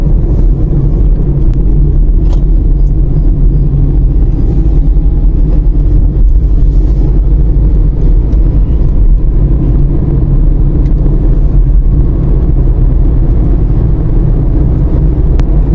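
A car drives along a street in Qatar with a steady, loud engine and road rumble throughout and no voices.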